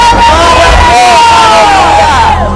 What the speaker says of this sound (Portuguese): dá um berro de glória a Deus